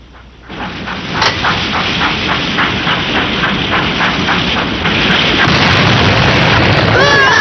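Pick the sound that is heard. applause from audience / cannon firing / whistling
cannon firing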